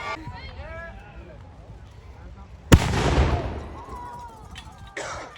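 A historic cannon at Arundel Castle fires a single barrel, a loud close boom with a rumbling decay, while people talk and a crowd murmurs before and after.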